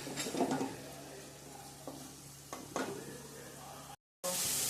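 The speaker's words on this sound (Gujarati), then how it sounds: "હવે આપણે આને બરાબર સરસ સાંકળી લેશું 2 મિનિટ" Onions sautéing in a pan for paneer butter masala, a soft sizzle with occasional stirring scrapes from close by, then a brief dropout followed by a louder burst of frying.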